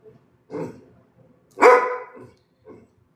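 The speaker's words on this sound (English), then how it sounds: "I got a dog barking at me, won't stop." A dog barks in three separate bursts, the middle one loudest and longest, each fairly close and standing alone with no talk.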